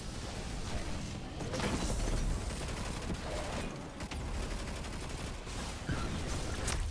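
Mechanical clacks from a slow weapon reload in the video game Destiny 2, set within a dense, continuous wash of rapid gunfire and combat noise throughout.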